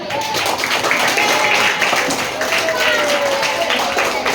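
Students applauding during a school outreach session, a crowd of hands clapping in a steady dense patter, fairly loud, with voices and chatter mixed in throughout.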